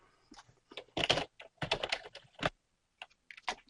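Typing a headline on a computer keyboard, quick bursts of close, crisp key clicks with short pauses between words, no voice over them.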